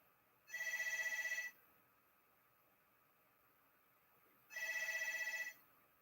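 Telephone ringing for an incoming call, two long electronic ring bursts about four seconds apart, fairly clear over faint background hiss, no voices.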